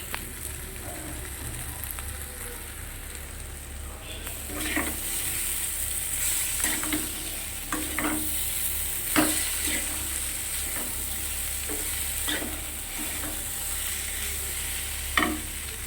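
Prawn curry with a pinch of sugar cooking over a low gas flame, a steady sizzle with irregular scrapes and taps of a spatula stirring throughout.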